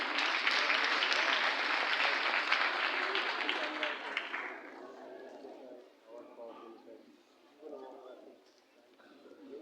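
Audience applause for an award nominee at a ceremony, loud and steady for about four seconds before fading into scattered voices and faint chatter.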